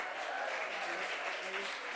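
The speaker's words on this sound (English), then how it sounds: "Clap hands for her, please." Attendees at an impact awards ceremony applaud a woman in a red dress, a soft and somewhat distant steady patter of many hands clapping with no other sounds over it.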